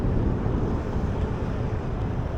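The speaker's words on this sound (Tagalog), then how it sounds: "Lumakas pala yung hangin." Strong wind batters the microphone during a bicycle ride, producing a steady, loud, low roaring rumble that fills the whole stretch without letting up, with no voices over it.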